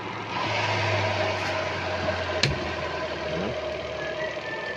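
A repaired spin dryer motor runs steadily with a low hum and constant rattling vibration, broken by a single sharp click midway.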